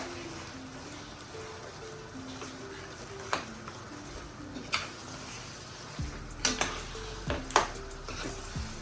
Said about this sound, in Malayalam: ഈ കപ്പ നമ്മൾ ഇതിനകത്തേക്ക് കോരി ഇട്ട് കൊടുക്കുകയാണ്. കുറേശ്ശായിട്ട് നമുക്ക് ഒന്ന് മിക്സ് ചെയ്തെടുക്കാം.